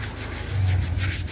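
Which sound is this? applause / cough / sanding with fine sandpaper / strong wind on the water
sanding with fine sandpaper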